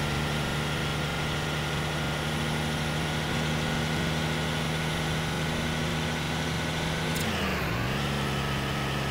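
A truck driving fast in the Truck Simulator Europe mobile game, a steady synthetic engine drone with tonal hum that dips sharply near the end as the engine note changes, with no speech.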